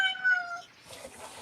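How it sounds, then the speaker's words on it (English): A domestic cat meows once up close, a short bright harmonic cry fading into quiet room noise. "Meow. That's my cat."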